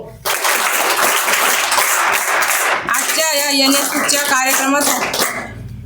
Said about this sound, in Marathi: साठी जोरदार टाळ्या वाजव.